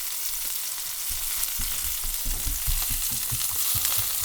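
Meatballs fry in a cast iron pan, giving a loud continuous sizzle with low bumps and shifts as they move in the hot fat.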